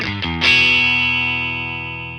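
An electric guitar through a Marshall amp with reverb switched on: a couple of quick picked notes, then a struck chord that rings out and slowly decays in a reverberant wash.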